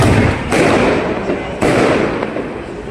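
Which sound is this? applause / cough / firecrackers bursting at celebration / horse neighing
firecrackers bursting at celebration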